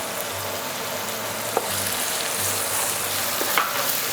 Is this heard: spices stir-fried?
yes